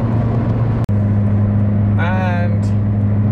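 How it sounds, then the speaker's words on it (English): Toyota Yaris idling with an exhaust leak, a steady loud low droning hum with one brief dropout, while a voice speaks briefly partway through. "this car is imperfectly perfect because of the amount of noise it makes from the exhaust"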